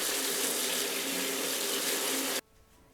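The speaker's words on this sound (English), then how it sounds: "Rinse them under water to remove the sand" Paris mushrooms are rinsed in a colander under a running kitchen tap, a steady full hiss of water that cuts off abruptly near the end, leaving quiet.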